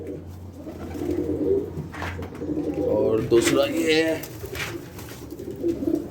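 Pigeons kept as pets in a city-home loft coo softly with low, throaty calls beneath a man's nearby speech, the cooing rising and falling across the moment.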